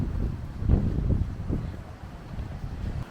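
Strong wind at a beach in Brittany, low rumbling gusts buffeting the microphone, rising and easing over a few seconds, with no voices.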